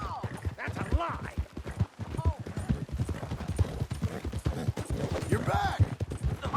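A horse's hooves clop in quick, irregular beats in the video game Red Dead Redemption 2, close and clear, with voices talking over the galloping.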